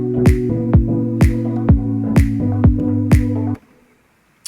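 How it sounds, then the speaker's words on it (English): Chopped glitch vocal sample from a dance track, stuttering tonal fragments over a sustained pad with sharp repeated transients roughly every second, ending abruptly in near silence. "And then there's this glitch vocal"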